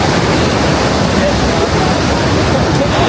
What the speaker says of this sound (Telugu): ఇటు ఇంత ఫ్లో వాటర్ పడుతున్నాయి కదా కిందకి